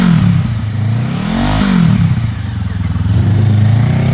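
A 2013 Honda CBR500R sport motorcycle with ABS idling close by, its parallel-twin engine revved once in a quick rise and fall, then settling back to a steady, throbbing idle.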